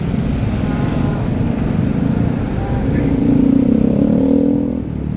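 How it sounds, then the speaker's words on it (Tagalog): Small buses and other vehicles rumble along a road toward Quezon City, a loud, close, continuous engine drone with clattering and a rising rev as a vehicle passes, steady traffic noise throughout. "Ito pa lang yung mga maliliit na bus."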